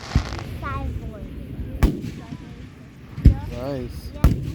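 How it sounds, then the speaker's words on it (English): Fireworks burst in sharp, booming reports, a few seconds apart, heard at a distance outdoors in Plainfield, Connecticut, while people chatter and exclaim nearby. "Firework."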